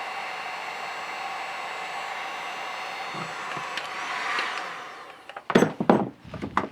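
An electric heater blows a steady hissing, rushing stream of air onto the edge of a PVC pipe for several seconds. It fades out and is followed by a few close knocks and handling thumps.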